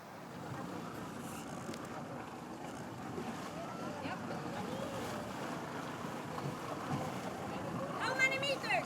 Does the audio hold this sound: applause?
no